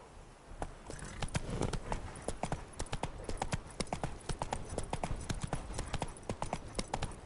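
Hooves of the horse Roach clip-clopping steadily at a brisk riding pace in the Witcher 3 game world, loud and close with a continuous rhythmic beat and no talk.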